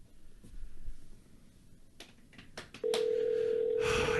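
A phone call rings out while waiting for an answer: faint early clicks and handling noise, then a steady, loud continuous tone fills the last second and a half, with no voices.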